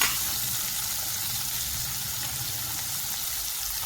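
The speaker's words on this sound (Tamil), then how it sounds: "இதை நல்லா ப்ரௌனிஷாக பொன்னிறமாக வதங்கணும்." Crushed ginger and curry leaves sauté in hot ghee, producing a loud, even, hissing sizzle that holds steady from start to finish with no talking.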